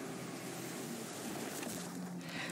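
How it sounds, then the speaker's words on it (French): Heavy swell and waves breaking along the coast near Propriano, a steady, full roar of surf and wind with no pauses, moderately loud throughout. "Une houle intense et des vagues qui déferlent sur la côte."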